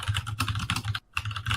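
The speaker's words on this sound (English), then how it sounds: "Go with your mechanical keyboard again." Rapid, steady typing on a mechanical computer keyboard, close and fairly loud, a dense run of clacking keystrokes with one brief pause midway and no talking.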